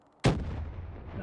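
A grenade explodes in an online shooter match, a single sharp blast with a short rumbling tail, fairly faint and heard alone.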